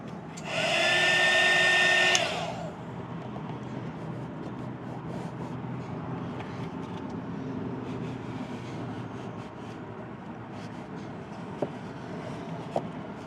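A heat gun warms a vinyl cargo liner in a 2021+ Ford Bronco, its loud whirring blast running for about two seconds before cutting off, leaving a quieter background hum with a couple of faint clicks.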